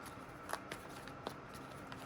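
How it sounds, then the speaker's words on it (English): Tarot cards being shuffled by hand, heard as soft papery riffles and a few light taps spread through a quiet room, faint and close, with no voice. "Look how these cards is coming out as I'm shuffling."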